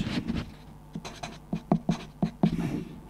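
A pen scratches and taps across paper by hand, a run of short close strokes in an uneven rhythm, fairly distinct against a quiet room.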